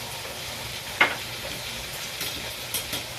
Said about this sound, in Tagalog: Gisa natin yung bawang, sibuyas, kamatis.